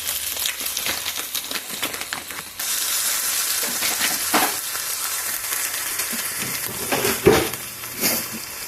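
Cod fillets go into a hot pan with minced garlic, and a loud, steady sizzle swells once the fish hits the oil. Occasional clicks and pan clatter sound through the frying.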